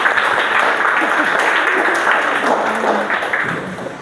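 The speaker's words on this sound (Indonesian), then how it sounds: "tepuk tangan untuk" Steady audience applause in a classroom teaching-practice session, dense even clapping with faint voices underneath, tapering slightly toward the end.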